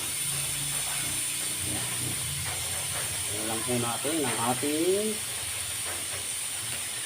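A pressure cooker cooking sweetened jackfruit hisses with a constant high steam jet, and someone talks briefly over the steady hiss.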